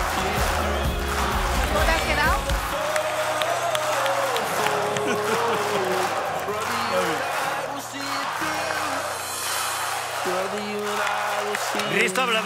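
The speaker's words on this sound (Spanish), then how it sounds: "está aplaudiendo de pie." A talent show audition audience applauds and cheers while background music plays, with talk over the top; the clapping stays at a moderate level under the music and voices.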